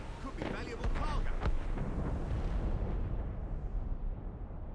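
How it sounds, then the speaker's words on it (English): Cannon fire deep within fog in Assassin's Creed Rogue at sea, a few heavy, rumbling booms in quick succession that fade into a soft, diffuse roll. "Cannon fire. Deep within the fog."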